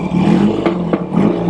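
An idling engine on a rare John Player Norton 850 motorcycle rumbles close by with a steady low throb and mechanical clatter, with a couple of brief sharper revs or blips.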